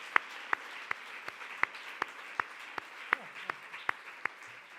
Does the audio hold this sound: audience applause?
yes